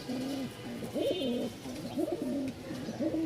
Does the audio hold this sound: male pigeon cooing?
yes